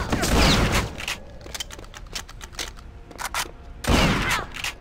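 Shotgun blasts in the Wolfenstein video game: two heavy booming shots about three seconds apart, each with a sharp crack and a rumbling tail, with fainter clicks and rattles from reloading between them.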